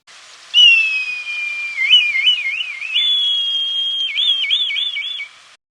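A red kite's clear, high whistling call, long drawn notes breaking into wavering trills, repeated twice against a silent background.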